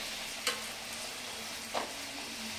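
Poori puffing in hot oil in a village kitchen, a steady soft sizzle throughout with two brief louder crackles, no talking.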